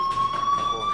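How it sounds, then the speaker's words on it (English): A steady, piercing electronic fire alarm tone rings continuously in the video game Life Is Strange, holding one pitch throughout while voices talk over it. "do you hear that fire alarm? That means you should be outside."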